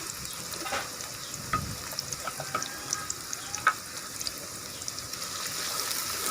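Onions frying in ghee in a kadai, a soft, fairly quiet sizzle with scattered small pops and stirring clinks, no talking.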